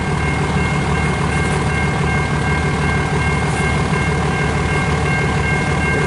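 CN L533, a local freight train near Port Huron, rolls past close by with a loud, continuous rumble and grinding drone that holds steady throughout, with no voices.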